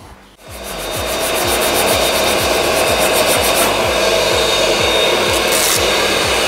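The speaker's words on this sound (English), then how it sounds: "I've got a bit of worn out 80 there that I'm just going to start my clean up with, and then I'll get in and give that a sand." Worn 80-grit sandpaper rubbing body filler by hand on a 1971 Camaro, a loud, close, continuous rasping with a steady back-and-forth rhythm.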